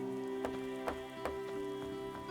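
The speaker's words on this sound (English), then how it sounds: "It's raining." Rain falls steadily in The Witcher's swamp area, a soft, continuous patter with a few sharper drops over a low, humming background.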